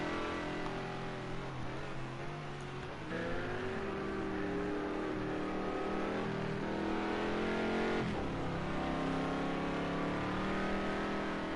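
McLaren GT3 race car on a qualifying lap in sim racing at Oschersleben: a steady, loud engine note climbing through gears with rising pitch sweeps and shift breaks, heard alone without voices.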